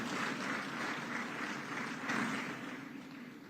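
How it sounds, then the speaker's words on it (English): Forum audience at a high-level economic growth conference clapping for the panelists, a continuous, moderately distant round of applause that swells briefly midway and then gently fades. "Can we give our panelists a round of applause?"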